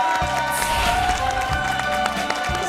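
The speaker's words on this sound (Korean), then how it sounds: "큰 박수 부탁드립니다" A studio audience at a Korean television talk show claps to welcome two guests, a steady crowd of hands beneath a loud musical backing with thumping low beats.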